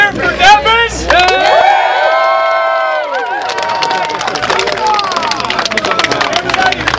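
Crowd cheering loudly for fighter Devin McDuff at a fighting tournament, a sustained roar of shouts and whoops with clapping close by, dense and lively throughout.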